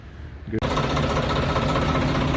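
A tractor's diesel engine chugs steadily at idle after a brief quieter moment, a loud, continuous low rumble close by, at a sugar mill.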